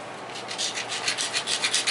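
Flint biface platform edge being ground during flintknapping, a close, steady rasping scrape repeated in quick rhythmic strokes, with no talk.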